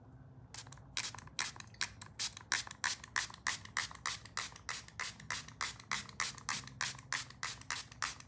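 Rapid bursts of Vita Beauty setting spray, a makeup fixing mist, hiss out in quick pumping succession, dozens of close, sharp spritzes in a steady rhythm with no talking.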